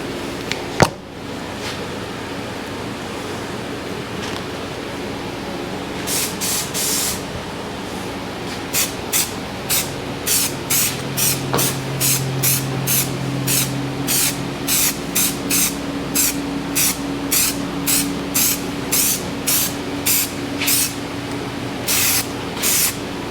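An aerosol can sprays headliner adhesive during a Ford Ranger headliner refurbish, giving a close, steady series of short hissing bursts in a regular rhythm after a quiet start, with no talk.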